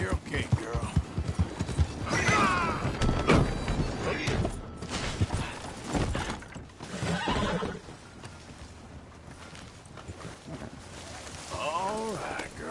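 Horse hooves clip-clop in Red Dead Redemption 2, a steady run of hoofbeats with whinnies and neighs mixed in, while someone talks softly to the mare over them.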